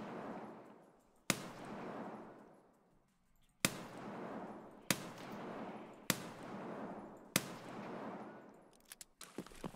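Five loud, sharp revolver shots from a Rhino 200DS in Escape from Tarkov, fired one at a time about a second or two apart, each with a long echoing decay that fades before the next, ending with a quick cluster of clicks.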